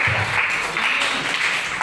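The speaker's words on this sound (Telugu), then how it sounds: "చప్పట్లు కొట్టండి టీచర్" A group of children and their teacher clap together at a Sunday school lesson, producing a dense, steady patter of many hands that holds at the same level throughout, with no voices.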